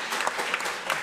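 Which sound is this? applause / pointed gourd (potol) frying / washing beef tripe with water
applause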